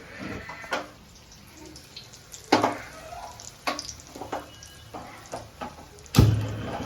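Tikdi bhajiya fry in oil over a low gas flame, a soft steady sizzle broken by scattered clinks and scrapes of a utensil, with one sharper knock near the end.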